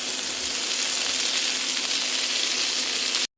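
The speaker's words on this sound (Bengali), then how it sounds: "একদম হাই হিটে ভাজার দরকার নেই, তাহলে ফুলকপি আলুগুলো গায়ের কালারটাই চেঞ্জ হয়ে যাবে" Cauliflower and potato pieces fry in a pan over moderate heat, giving a dense, even, close sizzling hiss that holds steady for about three seconds and then cuts off abruptly.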